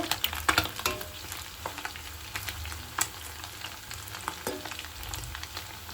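Tiny fish kebabs fry in hot, foaming oil. A soft, continuous bubbling sizzle is broken by occasional sharper crackles and stirring knocks near the start and middle, and no one speaks.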